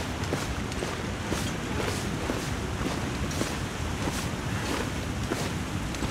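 Waterfall in the video game The Long Dark, a steady broadband rush of falling water with faint periodic footstep-like ticks, continuous and fairly loud, no talk.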